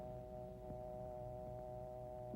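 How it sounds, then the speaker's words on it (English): A steady electronic hum of layered tones, a telephone dial tone through a receiver, holds constant, quiet and uninterrupted. "Take up your receiver and always listen for the dial tone."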